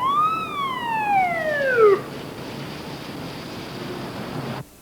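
A police siren wail sweeps downward once, then cuts off, leaving a steady hiss of background noise.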